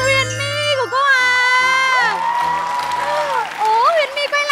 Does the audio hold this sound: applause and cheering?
yes